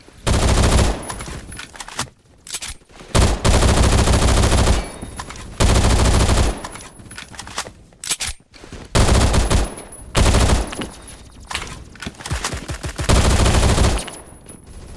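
Automatic gunfire in the Phantom Forces video game, loud and close, coming in long sustained bursts separated by short pauses across the whole stretch.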